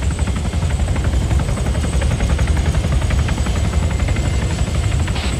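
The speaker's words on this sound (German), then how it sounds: "Erstmal den Heli landen lassen." A military helicopter lands in the ARMA 3 video game, its loud, steady rotor chop and engine roar filling the whole stretch without pause.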